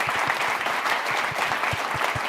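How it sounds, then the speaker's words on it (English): Dense, steady applause from an audience at a university innovation pitch event, continuous and moderately loud, with individual claps audible within the wash. "can we get a round of applause for our dolphins?"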